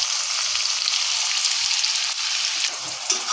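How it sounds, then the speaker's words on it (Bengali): Chopped onions sizzle steadily in hot spiced oil with cardamom and cloves for a Bengali dhaniya chicken, a dense, continuous hiss with faint stirring scrapes near the end. "এখন পেঁয়াজটাকে একটু ভেজে নেব।"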